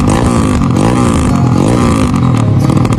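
Motorcycle engine revving loudly and close, with a rough, rising and falling roar, rapid throttle blips and a rattling mechanical clatter underneath throughout.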